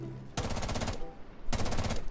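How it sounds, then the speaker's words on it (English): Automatic gunfire in Rainbow Six Siege, two loud sustained bursts of rapid rifle shots, the first running about a second and the second starting after a short pause, close and dominant with no talk. "You know, Vigil, we can shoot through that wall, right?"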